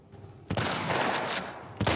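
Shotgun blasts in The Last of Us Part I, two loud, sharp shots about a second apart, the first followed by a long ringing tail, no talk.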